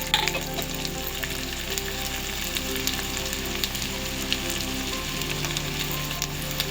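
Egg fry mixture with turmeric sizzles steadily in a frying pan while being stirred, with continuous crackling and occasional scraping clicks up close.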